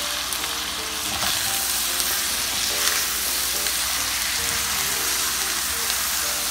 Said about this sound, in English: Haluin po muli natin ito.